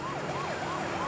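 Police car siren wailing in a steady, rising and falling sweep during a freeway pursuit of a fleeing motorcyclist, loud and close with road noise beneath.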